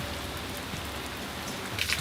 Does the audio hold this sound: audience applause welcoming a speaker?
no